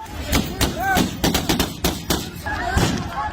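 A rapid series of sharp gunshot cracks rings out over several seconds at Kabul Airport, irregularly spaced, with a voice talking underneath.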